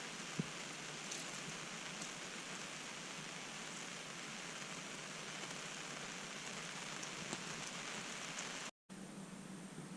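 Steady rain falls on a camp awning, a dense even patter that stays constant throughout, cut by a brief silent gap near the end.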